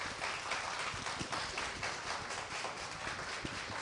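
Schoolchildren clapping together at a Raksha Bandhan school gathering, a dense, steady patter of many hands that holds evenly for several seconds with no voices over it.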